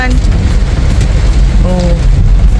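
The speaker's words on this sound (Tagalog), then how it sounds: "Aba, malakas ang ulan." Heavy rain pours steadily in a broadband wash throughout, with a voice talking partly over it in the background.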